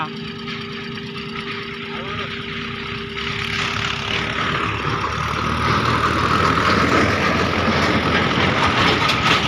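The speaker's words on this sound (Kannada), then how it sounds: "ಟ್ರ್ಯಾಕ್ಟರ್ ಬರ್ತಪ್ಪ ಅದ" A tractor engine rumbles nearby at a coconut grove, its heavy low drone swelling louder as it approaches, with people talking over it.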